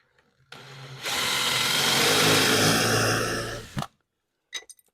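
Power drill driving a screw into the shiplap back of a wooden dresser, a close steady whir that ramps up and runs about three seconds before stopping, followed by a couple of faint clicks.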